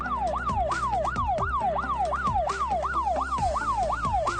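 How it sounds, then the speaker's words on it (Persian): An ambulance carrying a critically ill patient wails its siren in fast, repeating rising-and-falling sweeps, loud and continuous with traffic rumble underneath. "این صدا رو مهمترین صدای آژیرها میدونن و به این معنیه که بیمار بدحال داخل آمبولانسه"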